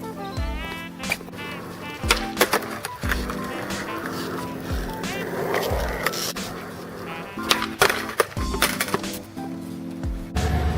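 Skateboard wheels and wooden deck clacking down on pavement again and again while the rider tries to land on all four wheels rather than pivoting; sharp slaps and rolling rumble recur, with a voice talking at times.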